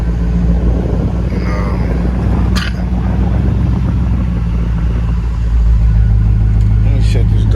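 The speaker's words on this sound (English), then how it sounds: "Start my truck." A Chevy Tahoe engine starts and settles into a steady low idle rumble close by, a brief higher crank burst near the start, with a voice talking over it.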